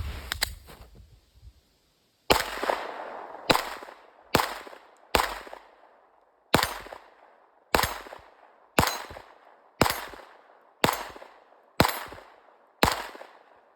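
Sharp, loud pistol shots from a Taurus GX4 ring out at a steady pace, about a dozen in succession, each with a short echoing decay and a brief pause early on before the string resumes.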